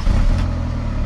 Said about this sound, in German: Erstmal anmachen und zeigen, wie der Motor läuft.